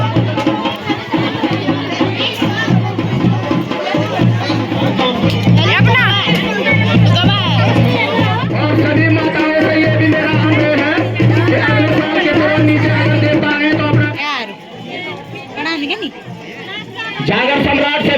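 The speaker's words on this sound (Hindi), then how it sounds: "बाकी भीड़ काफ़ी ज़्यादा हो रखी है।" A large village crowd gathered in a panchayat square for a Nag Lila in the Pahadi hills fills the air with dense, continuous chatter and babble, with steady tonal sounds running underneath before the noise briefly thins near the end.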